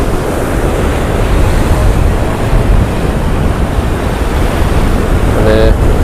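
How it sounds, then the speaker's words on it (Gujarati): Sea surf washing against rocky cliffs at Diu, a steady loud roar of waves and wind noise filling the whole stretch without pause. "અને દરિયાના ઘૂંઘોટા પણ તમે જોઈ શકો છો."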